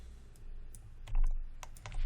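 Computer keyboard keys clicking in a short burst of typing, ending with a firmer press of the Enter key, close and crisp against quiet room noise.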